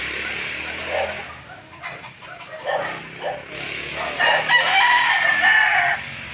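Roosters crow among a large flock of chickens, with several drawn-out calls rising through the middle and end over a steady background of clucking.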